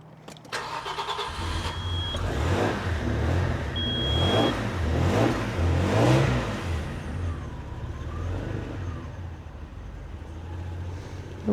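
A 1994 Audi 80 quattro V6 with a blowing exhaust cranks with a starter whir, catches and fires up, then settles into a steady idle with a couple of throttle blips, heard close and loud.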